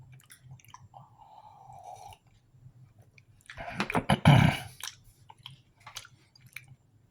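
Someone chewing crunchy breakfast muesli up close, with soft mouth sounds early and then a loud burst of crunching bites in the middle, followed by quieter chewing.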